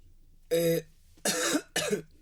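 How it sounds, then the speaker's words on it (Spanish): Three harsh coughs, close to the mic, with a short pause after the first and the last two coming in quick succession. "yo y mi tos"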